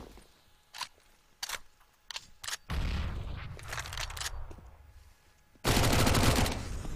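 Glock pistol shots in the video game CS:GO, several sharp single cracks spaced irregularly, followed by longer bursts of dense gunfire, loud and close with no speech.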